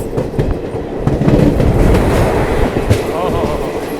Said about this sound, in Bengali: সামনে একেবারে ধীমি গতিতে আসছে train number 53028 Malda town Azimganj express.